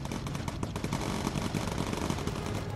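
Rapid machine-gun bursts from the bomber aircraft video game Bomber Crew, a dense, continuous rattle of gunfire that stays loud and close for the whole short stretch, with no talking.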